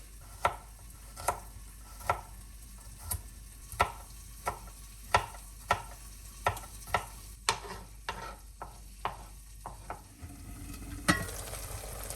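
A knife finely chops garlic on a cutting board in a kitchen: quiet, regular taps about twice a second for ten seconds, faint and close, over a low background hum.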